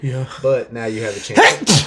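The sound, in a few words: loud sneeze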